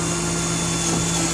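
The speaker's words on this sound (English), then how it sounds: "I'm going to take the self-tapping screw and a 5/16 nut driver." A 5/16 nut driver spins a self-tapping screw into the bottom of a trailer frame, a short, steady, close power-tool whir with a constant hum.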